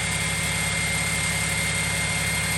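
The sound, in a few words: car engine idling while warming up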